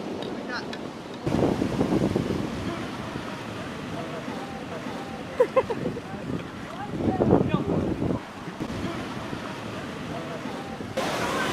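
Loud waves crash and surge amid gusty wind buffeting the microphone, with brief voices mixed in.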